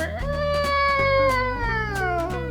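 A house cat meows in a long, loud, drawn-out wail with a wavering pitch, close up and alone, in a home kitchen where food is being cooked.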